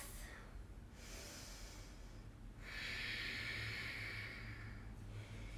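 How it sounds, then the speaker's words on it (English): Slow, audible breaths during a yoga flow, a long airy exhale followed by a rush of inhaled air, close to the microphone against a constant low hum, with no speech. "Slow the breath."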